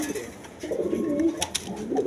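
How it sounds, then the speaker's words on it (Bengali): A male red Gola pigeon coos softly, low murmuring coos repeating steadily across the moment with no other voices. "এই নটটা দেখেন ডাকতেছে"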